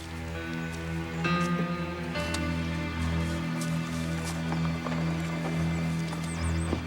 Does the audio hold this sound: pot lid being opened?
no